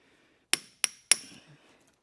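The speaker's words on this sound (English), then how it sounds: "the ball peen hammer doesn't really help" Three sharp metallic strikes of a ball peen hammer on a punch against an LS1 cylinder head, evenly spaced about a third of a second apart, close and loud with brief ringing decay.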